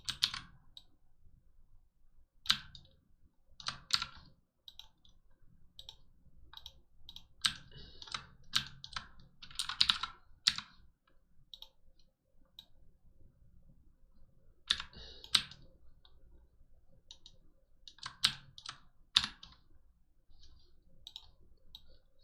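Computer keyboard being typed on, with the Shift key held: scattered, quiet clicks and key presses in short clusters with gaps between them, close by and with no talking.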